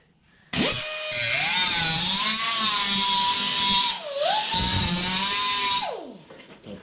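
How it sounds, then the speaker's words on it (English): A die grinder cuts a billet grille loose on a Mazda B2600i pickup, a loud, close high-pitched whine that runs steadily for about five seconds, dips briefly as the load changes, then spins down. "we're gonna go real quick with that die grinder. Cut these loose real quick"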